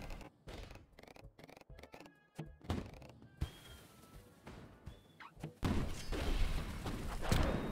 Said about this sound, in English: I hit the rocket with the sword.